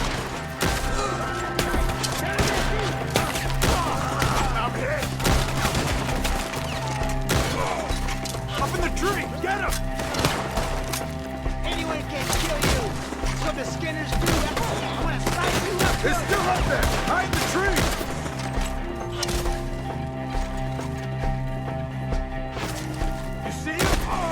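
Gunfire in a Red Dead Redemption 2 shootout, repeated loud shots and impacts crackling over music and ambience, with voices shouting throughout.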